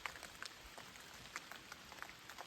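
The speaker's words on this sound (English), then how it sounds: "Hopefully this rain quits" Steady rain falls on a deer hunting camp in West Virginia, a faint continuous patter with scattered individual drops tapping nearby surfaces, heard alone without voices.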